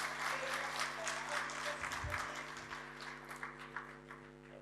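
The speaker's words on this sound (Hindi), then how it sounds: "आप लोग थके ना हो तो एक और ताली बज जाए" An audience at a Republic Day kavi sammelan and mushaira claps, steady, fairly faint applause over a constant electrical hum that slowly thins toward the end.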